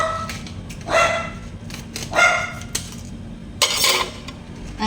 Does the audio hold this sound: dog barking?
yes